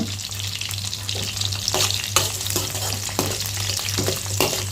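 Onions, garlic and green chillies sautéing in oil in a pan for karuvadu kulambu, a constant close sizzle punctuated by spatula scrapes and stirring clatters over a low steady hum.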